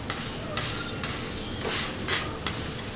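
A date-stuffed paratha cooks on a hot pan, giving a steady close sizzle broken by several light scraping or pressing strokes at irregular intervals, with no talking.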